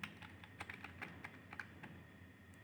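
Quick, light keystrokes on a computer keyboard as an FTP command is entered in a terminal, a short run of close, crisp clicks at an uneven rhythm with no talking.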